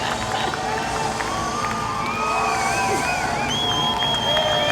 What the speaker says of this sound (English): There's the fireworks. People cheering.